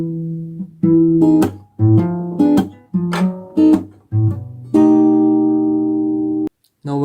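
Acoustic guitar playing the chord pattern of a song at a quicker tempo, several plucked chords ringing out clearly and close, ending on a long sustained chord with no talking.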